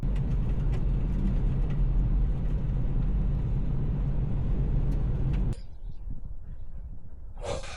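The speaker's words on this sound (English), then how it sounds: "I'm driving from northern Armenia to the Iranian border" A car drives a mountain road in Armenia, its engine and road rumble a close, steady low drone that drops abruptly to a quieter hum near the end.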